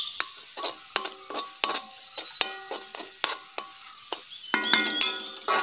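Crab cooking in a pan with chilli powder and masala in a traditional village kitchen, heard as repeated metallic stirring scrapes and clinks over a soft frying sizzle, close and alone.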